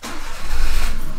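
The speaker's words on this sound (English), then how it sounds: "Is this your first time driving a Kei Truck?" A Kei truck's small engine cranks, catches and revs, loud and close, the rumble rising and holding for about a second.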